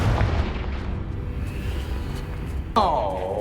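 Confringo fire spell in Hogwarts Legacy, a brief booming blast with a rumbling decay, followed near the end by a sharp new burst; a voice is heard casting.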